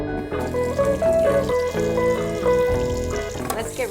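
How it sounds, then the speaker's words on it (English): An octopus is rinsed under running water in a kitchen sink, a steady splashing hiss of the tap that stays loud throughout, mixed with background music. "We have to give it a good little bath in the kitchen sink."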